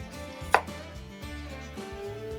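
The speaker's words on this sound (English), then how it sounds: "1 little onion is plenty good enough. See how my new knife is working?" A new kitchen knife chops a small onion on a board, giving soft, rhythmic close thuds with a couple of sharper knocks as the blade strikes, with no talking.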